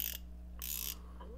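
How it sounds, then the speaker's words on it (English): Deen 3/8 drive roto ratchet with a locking anvil, two short bursts of fine, quick clicking from the mechanism, quiet and close over a low steady background hum. "So there's the 3/8 drive. You know, fairly compact for a roto ratchet."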